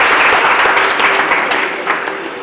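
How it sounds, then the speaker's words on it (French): Audience applause at a bilingual contest's round-of-16 event for a candidate, a dense continuous wash of clapping that fills the whole moment and tapers slightly toward the end. "Sous vos applaudissements pour lui."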